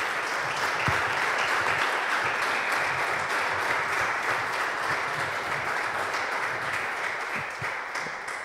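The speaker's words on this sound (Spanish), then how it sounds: "Damos fuertes aplausos al Señor Jesús." A church congregation claps at a prayer service, steady dense applause filling the room for the whole stretch, fairly loud and even, fading only slightly near the end.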